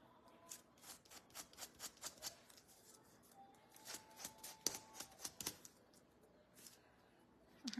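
Hand sanding on the hooves of a small highland cow craft figure, a series of short, quiet scratchy strokes in an uneven rhythm, close by and alone.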